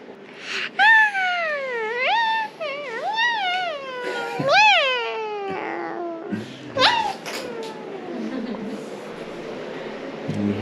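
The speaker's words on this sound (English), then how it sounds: "We have a family of cats getting ready for Carnival." Several cats in a family meow repeatedly in drawn-out, rising and falling calls, close and loud, with some overlapping wails, on an olive grove in Sicily.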